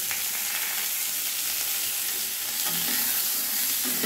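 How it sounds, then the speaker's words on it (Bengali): Pointed gourd fries in hot oil in a wok with salt and turmeric, giving a constant close sizzle and crackle with small bursts of spitting, no voices. "পটলটা ভেজে নেব"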